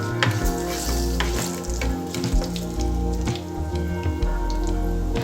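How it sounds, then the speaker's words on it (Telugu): Garlic and curry leaves fry in hot oil for an instant tomato pickle, with a steady close sizzle and crackle broken by stirring clatter and irregular pops, and no voices. "వెల్లుల్లిపాయలు కరివేపాకు ఫ్రై అయిన తర్వాత పసుపు వేసుకోవాలి."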